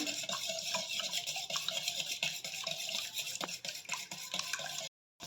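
Three eggs being beaten vigorously by hand with a whisk or spoon in a bowl for a maida appam snack batter, a steady close scraping, clicking rhythm that runs continuously before a brief break near the end.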